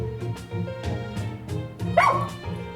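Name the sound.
dog barking in video game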